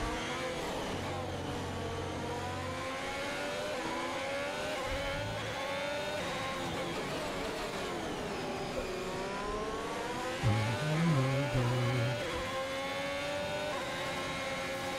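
An Alfa Romeo Formula 1 car in F1 2021 at the Brazil round howls steadily at high revs throughout, the engine pitch swooping up and down through gear changes, with a short burst of tire scrub near the end.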